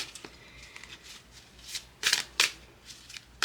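Tarot cards being shuffled by hand, a soft continuous riffle with sharper slaps and flicks in the middle and near the end, close up with no voices.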